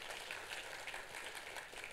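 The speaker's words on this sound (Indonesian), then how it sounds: "Tepuk tangannya yang paling meriah buat Tuhan itu" Faint, distant applause from a church congregation, a soft steady patter of many hands with no voices over it.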